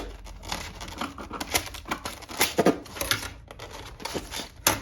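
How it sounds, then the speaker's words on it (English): Crisp snipping and crinkling close up, a quick run of sharp scissor cuts through packing tape on a remote-control Cessna 182 model's box, with some rustling of packaging, no talking. "I will have to cut some of the tape here. I've got scissors for that."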